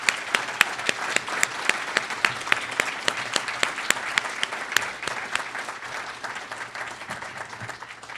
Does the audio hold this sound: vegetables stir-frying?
no